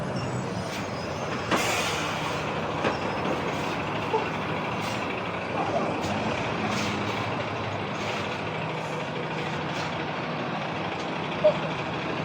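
A bus driving along a street in Wicklow Town, Ireland, a continuous loud engine and road roar with brief sharp clanks and air-brake hisses scattered through, close by.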